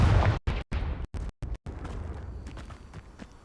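A Confringo spell bursts in Hogwarts Legacy as a loud, close explosion with a heavy low boom, broken by brief dropouts, then a fading rumbling tail.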